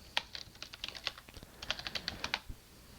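Close, quiet clatter of typing on a computer keyboard, an uneven burst of light key taps that speeds up and slows with brief gaps for about three seconds.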